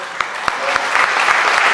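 A church congregation applauds during a Sunday homily, with dense, steady clapping from many hands filling the room at close range for a short burst.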